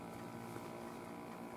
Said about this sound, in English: I thought it was a 2 horsepower outboard somewhere.